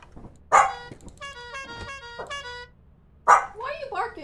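A dog barks during a Lethal Company game session, two sharp loud barks a few seconds apart, with a person talking in between.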